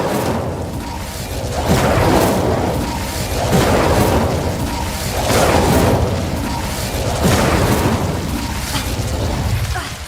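Incendio fire spell cast repeatedly in the Hogwarts Legacy video game, loud whooshing fiery bursts recurring roughly every two seconds over a dense, continuous roar of game effects.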